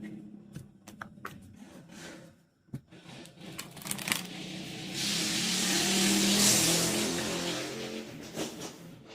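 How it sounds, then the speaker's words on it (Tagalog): Vehicles with loud modified exhausts passing along a street, a roaring rumble that swells and fades as each goes by, peaking loud in the middle with scattered clicks and knocks before it. "pasensya na guys sa mga sasakyan"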